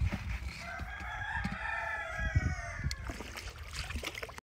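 A rooster crows loudly and close by, its call stretching over several seconds while other chickens cluck in the background, on a poultry farm.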